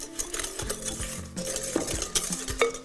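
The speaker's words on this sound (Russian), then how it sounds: "Берем венчик, перемешиваем" A whisk works egg white with sugar and powdered sugar in a metal food-processor bowl, making close, irregular clinks and scraping taps against the bowl with no voices.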